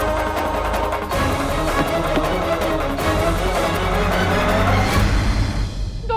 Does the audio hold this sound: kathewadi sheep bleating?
no